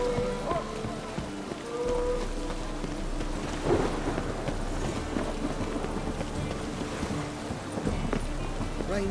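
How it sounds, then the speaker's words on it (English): Steady rain pours with rumbling thunder in The Witcher video game, a broad hiss of downpour under low rolling booms, with a stronger crack near the middle, fairly loud and close throughout. "Rain like this one."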